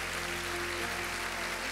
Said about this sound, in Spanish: Dale más fuerte los aplausos al Señor.